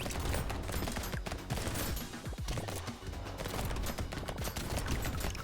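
Rapid, nonstop shots and popping noises from the video game Brotato, a loud, dense barrage of cracks and pops layered continuously throughout.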